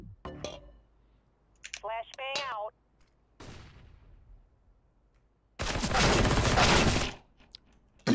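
Video game gunfire comes as a short crack, then a sharper burst and a longer loud volley, with brief clicks and a voice speaking between the shots.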